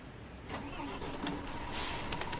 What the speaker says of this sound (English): we can start the engine up